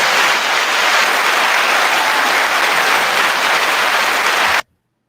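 A loud, dense burst of clapping fanfare, like a crowd applauding, holds steady for several seconds and then cuts off abruptly into silence.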